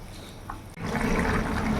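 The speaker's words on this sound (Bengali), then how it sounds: "ঝোলটা ভালোভাবে ফুটে গেছে, এবার মাছের পিসগুলো আমি দিয়ে দেবো" Rohu fish pieces drop into a boiling curry gravy with a sudden splash, then a steady loud bubbling and sizzling from the pot, close up with no voices.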